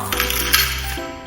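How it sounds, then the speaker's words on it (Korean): Coins dropping one after another into a plastic toy cash register, bright metallic clinks and rattles that run continuously through the clip with no voices. "나머지 동전들도 다 넣어봐요"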